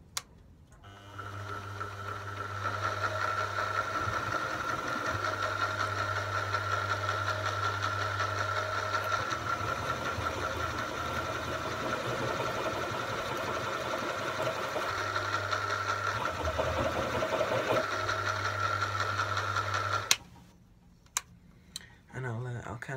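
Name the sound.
milling machine running slow, cutting vise jaw surface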